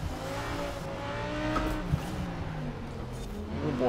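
Modern supercar engine in Forza Horizon 4 on Fortune Island, held at a steady drone with rising and falling pitch as it accelerates along a winding touge road, with brief tire noise and no talking.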